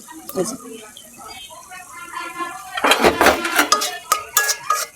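Loitta dry fish tipped into a pan of frying masala, a burst of clattering and sizzling with sharp metallic scrapes and knocks of a spoon against the pan, close and fairly loud after a quieter start.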